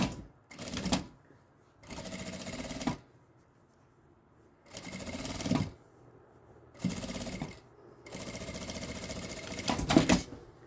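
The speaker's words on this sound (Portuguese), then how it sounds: "eu vou passar uma costura com um pé de máquina só aqui nessa parte curva de cima" A sewing machine runs a curved seam along the top edge of a fabric coffee filter holder, whirring in five distinct bursts of steady stitching separated by short quiet pauses.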